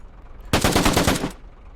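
Automatic gunfire from Arma 3 with the Global Mobilization DLC, a single loud burst of rapid shots lasting under a second, heard alone with no talk.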